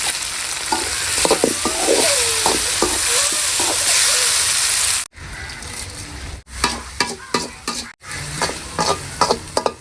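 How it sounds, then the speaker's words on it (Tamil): Onions and tomatoes sautéing in a pan, a loud close sizzle with stirring scrapes, then sharp cuts and bursts of stirring clatter after a few seconds. "வெங்காயம் நல்லா வதங்கிட்டு தக்காளி போடுறோம்"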